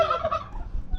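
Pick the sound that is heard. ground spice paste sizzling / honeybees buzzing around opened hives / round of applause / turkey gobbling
turkey gobbling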